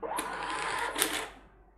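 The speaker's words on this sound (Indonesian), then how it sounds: "dan printer pun kembali mencetak struk pembayaran" A cashier's receipt printer in a restaurant point-of-sale setup prints a payment receipt, a steady buzzing mechanical whir lasting over a second with a brief louder burst before tailing off, close and alone.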